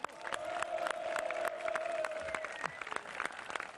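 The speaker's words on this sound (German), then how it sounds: "Dafür schon mal ein riesiges Dankeschön und ein Applaus hier aus Niederwerth" Applause from an audience at a charity auction in Niederwerth rises as a dense, steady patter of many hands, moderately distant and fairly faint, with a voice or tone briefly audible over it.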